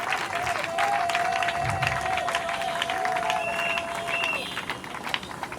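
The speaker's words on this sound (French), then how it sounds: "Applaudissez pour la maman." A crowd at a 8 March event for mothers and widows claps steadily for a mother, moderately loud and continuous, with a voice and a brief whistle-like tone over the applause.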